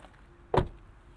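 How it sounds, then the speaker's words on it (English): The rear door of a 2026 Toyota Crown Platinum hybrid sedan shuts with a single firm, muffled thud, heard close and alone against a quiet background. "Doors close nicely."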